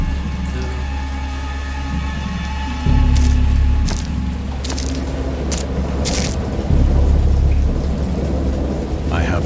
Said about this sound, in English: Is it raining? It sounds like it.